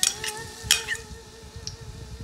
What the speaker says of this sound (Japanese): 鍋を熱して油を垂らします。